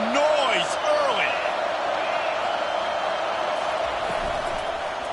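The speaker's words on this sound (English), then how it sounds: "This crowd bringing the energy and noise early." Stadium crowd at an Ohio State football game roars steadily, with scattered whoops and rising shouts standing out early before settling into a continuous background din.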